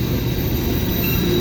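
A CSX empty coal train creeping slowly through Sykesville, giving a steady low rumble of rolling wagons with a faint high metallic whine from the wheels, close and continuous throughout.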